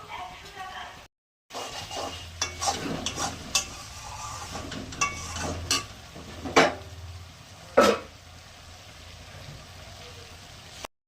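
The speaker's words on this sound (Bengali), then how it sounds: "এটা কষিয়ে নেবো মশলাটা ভালো করে।" Chili, coriander, cumin and ginger paste masala fried in a pan for a katla fish-head sour curry, with a soft sizzle, intermittent spoon scrapes and clinks, and quiet talking in between.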